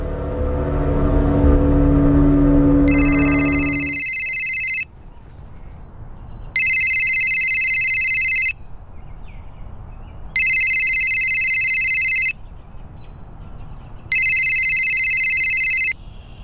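A telephone rings in an indoor dramatized scene: four evenly spaced bursts of bright electronic ringing, each about two seconds long with short pauses between, following a loud low rumble at the start.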